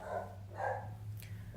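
A dog gives a couple of soft, somewhat distant barks or yips indoors, low in level over a steady background hum, with no talking.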